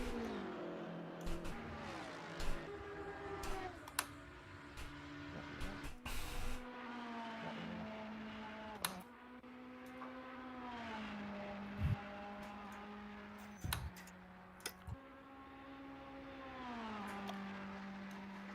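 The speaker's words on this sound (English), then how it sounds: "That BM pounding down the back straight." BMW race car in Assetto Corsa Competizione at the Paul Ricard circuit, engine revving hard through repeated upshifts, with brief clicks and tyre noise, loud and close with no talk.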